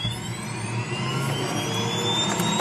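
A rescue helicopter spooling up for takeoff from a lit landing zone, producing a loud, continuous turbine whine with rising tones over a deep rumble, close and steady.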